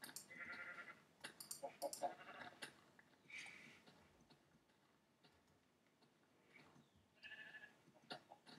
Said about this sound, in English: I'll be heading this way to find some sheep. Oh look, I found millions.